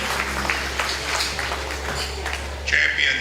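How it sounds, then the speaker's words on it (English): A crowd at a county fair hog show applauds the senior exhibitors, with a steady wash of clapping over a low hum and voices murmuring beneath. "Let's give all those senior exhibitors a nice round of applause."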